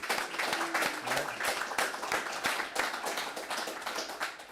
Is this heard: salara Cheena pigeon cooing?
no